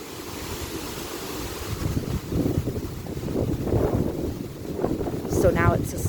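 Gusty wind rumbles across the microphone beside an old limestone quarry swimming hole, a steady low roar that swells and eases, with faint birdsong near the end.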